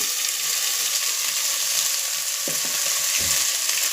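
Horse gram roasts with softened onions in oil, giving a steady close sizzle with a couple of brief scraping stirs near the end.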